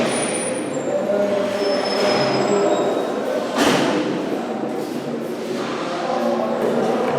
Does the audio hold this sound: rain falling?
no